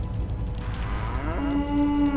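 A cow in the video game Goat Simulator gives a single long, loud, drawn-out moo that rises and holds steady near the end, with no talking.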